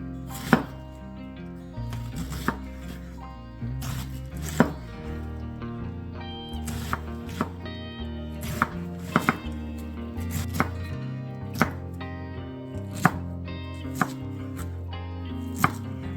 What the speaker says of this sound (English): we're going to slice this cabbage up into slices.